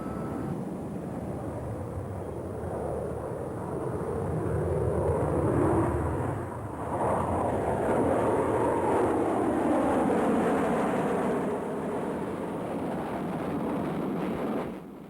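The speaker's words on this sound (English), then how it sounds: "taxi the plane directly into its takeoff run" A steady, loud McDonnell Douglas A-4 jet engine roar with wind buffeting, rising slightly in the middle as the aircraft taxis directly into its takeoff run, no voices.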